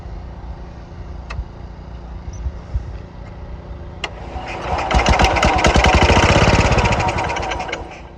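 Ant-infested Cub Cadet 104 lawn tractor engine being cranked without starting: a low idle-like background rumble, then a loud, rhythmic chugging crank swelling over several seconds before fading, close up.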